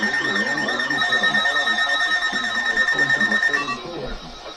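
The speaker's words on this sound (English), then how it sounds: "The warning alarm now will be conducted a test of the new weather radio warning alarm system." Weather radio warning alarm test tone: a loud, steady, sustained electronic tone lasting about four seconds, then cutting off into broadcast background.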